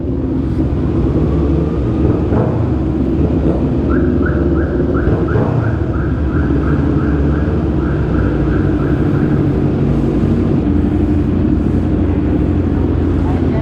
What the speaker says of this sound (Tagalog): Nag-a-alarm mo sa sasakyan.